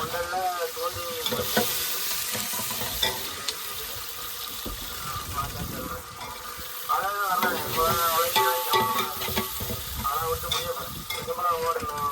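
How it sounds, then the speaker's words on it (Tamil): Masala sautéing in a pan for oozhi fish curry cooked aboard a fishing boat at sea gives a loud, steady sizzle and frying hiss throughout, with someone talking over it. "அண்ணன் மசாலாப்படியை போடுறாங்க மசாலாப்படியை போட்டு லைட்டாக வந்து வதக்கிட்டு"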